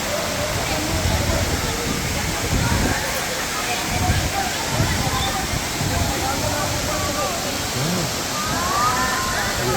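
Water rushes steadily at Mantayupan Falls, a broad continuous roar of falling and flowing water close by, with people talking faintly beneath it.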